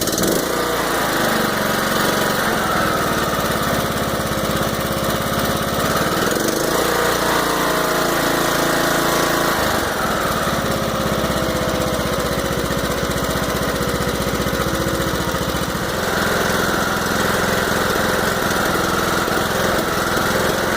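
A John Deere LA105 riding mower's Briggs & Stratton engine runs steadily up close, a loud continuous droning idle with slight shifts in pitch and rhythm, and no voices.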